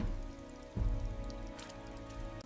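Steady rain falls in a wet brick-walled street, a continuous broadband hiss with no voices.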